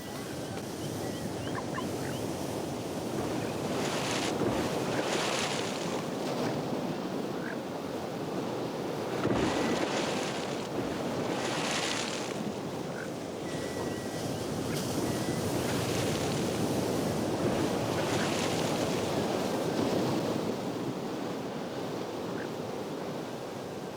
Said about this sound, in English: As the waves and spume crash below